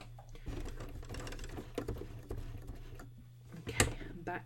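A home sewing machine runs a back stitch in short, rapid bursts of mechanical clatter, with quieter pauses and a sharp click near the end, heard close up.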